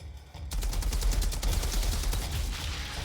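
Assault rifle fire in the shooter game Outriders, a loud, dense burst of rapid automatic shots that starts abruptly after a brief quiet moment and continues without pause, with explosive impacts mixed in.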